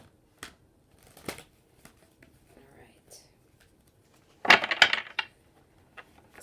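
Tarot cards being shuffled by hand, with a few soft riffles early on and then a louder burst of cards slapping and falling together near the end, close and quiet, with faint breathy whispering.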